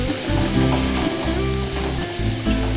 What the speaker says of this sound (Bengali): লঙ্কা কুচি, পেঁয়াজ কুচি, ক্যাপসিকাম, সব একসাথে দিয়ে একটু হালকা হাতে ভাজবো।